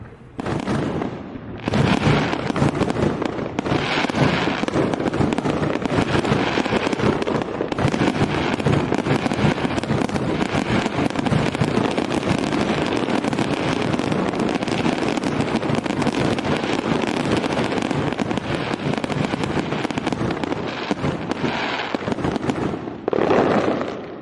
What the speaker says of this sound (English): It's time for fireworks after something like that.